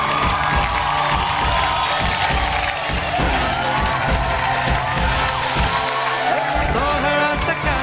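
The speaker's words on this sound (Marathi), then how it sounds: "एकदा जोरदार टाळ्या झाल्या पाहिजे." A studio audience at a Marathi television show applauds and cheers loudly and continuously, with whoops and shouts over a dense crowd roar and a musical backing underneath.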